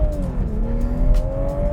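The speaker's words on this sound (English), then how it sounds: "Under the hood, you have BMW's 3-liter single-turbo inline-6." A Toyota GR Supra with a BMW 3-liter single-turbo inline-6 accelerates hard close by, its engine note rising steadily through a loud, continuous pull over road rumble.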